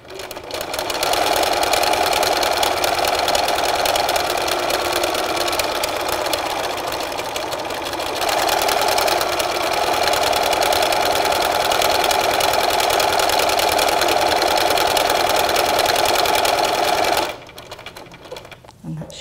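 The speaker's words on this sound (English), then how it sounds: "This machine will automatically do the buttonhole." A sewing machine stitches a buttonhole in a steady, rapid mechanical whir for about seventeen seconds before stopping, close and fairly loud, with brief talk near the end.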